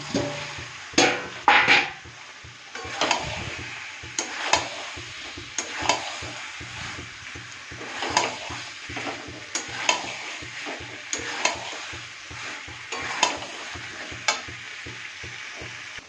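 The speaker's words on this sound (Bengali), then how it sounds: "এইবার আলুগুলো দিয়ে ভালো করে কষাবো" Potatoes stir-fried in oil and spice masala for Kashmiri dum aloo, with repeated close scraping and clacking of a spoon against the pan over a steady sizzle.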